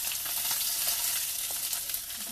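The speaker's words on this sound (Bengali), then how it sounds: "এই দেখেন মাছগুলো ভাজা হয়ে গেছে সুন্দর" Small bacha fish frying in oil, a brief, close, even sizzle with light crackles that stays steady over its short length.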